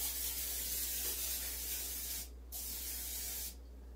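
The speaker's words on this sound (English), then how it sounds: "I'm running out of spray." An aerosol cooking spray hisses onto a bread pan in a home kitchen, a steady close spray broken by two brief pauses, then resuming, against quiet background.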